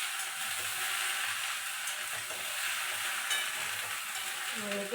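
Okra (bhindi) fries in a pan for a South-Indian-style dish, a steady, fairly quiet hiss of sizzling oil with faint stirring scrapes throughout, close up and without talk.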